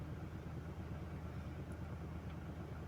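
A Ford car engine at a rough cold-start idle runs as a steady, low mechanical rumble, fairly faint and continuous with no talk over it.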